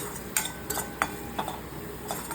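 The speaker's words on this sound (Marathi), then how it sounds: "मसाले थोडेसे आपल्याला तेलावर छान परतून घ्यायचे आहेत" Spices including garam masala and coriander powder are stirred and sautéed in oil in a pan, a spoon scraping and clinking at irregular intervals over a soft, steady sizzle.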